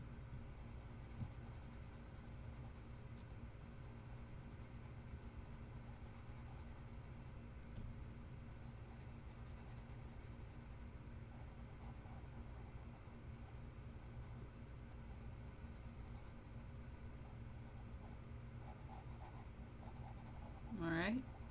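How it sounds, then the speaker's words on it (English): A pencil lightly shading on paper in a drawing session, giving a faint, steady scratchy rustle with a brief louder stroke near the end. "So I'm going to shade just a little bit with my pencil."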